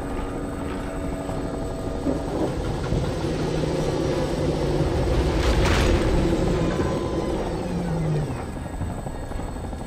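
An explosion in the game Fallout New Vegas: a long, heavy rumbling roar that swells to a broad boom near the middle and slowly fades back into a sustained low drone, with no talking.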